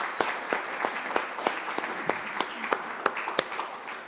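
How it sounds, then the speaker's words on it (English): Steady applause from an audience after a debate at Wheaton College on Air-Sea Battle doctrine, with individual hand claps standing out crisply over an even bed of clapping throughout. "But I think they all deserve a further round of applause just for doing that."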